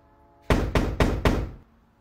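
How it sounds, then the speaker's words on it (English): Four loud, evenly spaced knocks strike a door in quick succession, then stop. "Somebody's knocking at your door."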